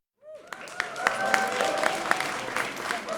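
A crowd at a state legislature press conference on a bill against no-cause evictions applauds loudly and continuously, the clapping swelling after a sudden start with a few louder individual claps and whoops.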